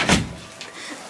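A household door closes with a single firm thud at the start, then a quieter room with faint movement.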